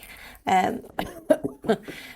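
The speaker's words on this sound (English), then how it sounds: "there's my cough" A person's cough comes as a few short, close bursts spread over about two seconds, the middle one strongest, with no talk around them.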